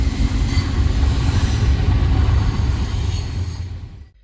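A freight train pulled by six locomotives rolls past a grade crossing on the Norfolk Southern Fort Wayne Line. The heavy, loud rumble of engines and wheels is steady at close range, then fades away quickly near the end.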